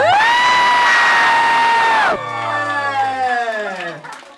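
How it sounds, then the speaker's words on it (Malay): A crowd cheers and whoops for Yun Mira after a sustained tonal note cuts off, the shouts and yells rising and falling as a loud, close burst that gradually thins out. "Berikan tepukan untuk Yun Mira."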